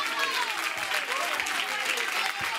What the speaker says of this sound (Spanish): vamos a darle ese aplauso por haber estado aquí con nosotros